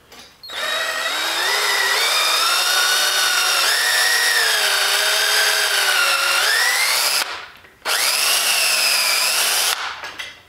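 A power drill bores a pilot hole freehand into wood for a sealing hook, making a loud, close whine that changes pitch under load, stops briefly, then runs again in a second burst.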